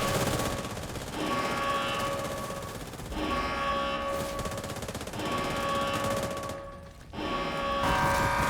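Sustained bursts of automatic gunfire in The Division 2, rattling loud and continuous in several long stretches broken by brief pauses, with mechanical clatter mixed in.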